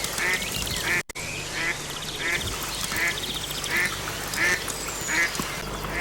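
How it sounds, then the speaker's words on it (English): A tufted duck with her ducklings on a canal near a railway bridge at King's Cross gives a steady run of short, evenly spaced quacks over a constant background hum. "a tufted duck herds her family away from open water to shelter under the railway bridge"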